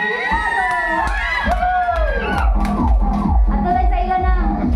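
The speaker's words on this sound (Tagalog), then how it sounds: "Palakpak dayon mga." Children cheer and shout loudly at a Christmas costume party, a lively crowd of excited voices with whoops and calls filling the whole stretch.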